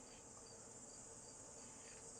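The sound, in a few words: crickets chirping in a video game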